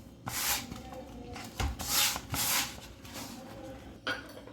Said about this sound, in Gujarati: હવે આ જે લોટ પડ્યો છે એ ફરી પાછો આપણે આ બીજા લોટ સાથે મિક્સ કરી દઈશું